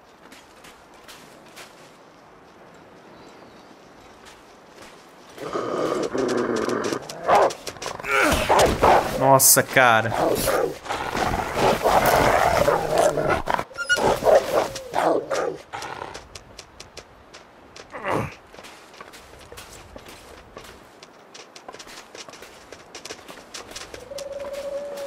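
Wolf in the survival video game The Long Dark, snarling and growling in a loud, rough burst lasting several seconds amid creaking game sounds, with someone talking quietly before and after.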